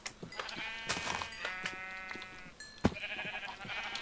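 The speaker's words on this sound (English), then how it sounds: "Okay, it was a sheep. Sheep, you scared me!" A Minecraft sheep bleats several times in quick succession, close and clear, with game sound effects and a sharp thud partway through; no talking.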